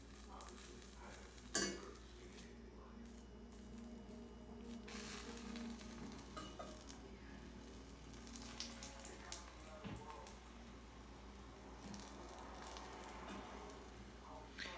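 Mozzarella stick mixture being stirred in a bowl, with soft scraping and clinking of a utensil running steadily throughout, faint and close, over a low background hum.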